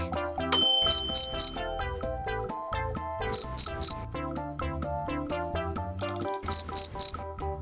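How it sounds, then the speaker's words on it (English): A cricket chirps in short, bright, evenly spaced bursts of three, repeated several times over a background of a playful children's tune. "Cricket."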